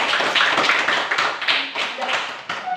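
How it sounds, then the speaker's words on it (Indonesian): Children in a classroom clap together in a brisk burst of applause, with loud, uneven hand claps close by and a few voices mixed in before it tapers. "Ya, tepuk tangan."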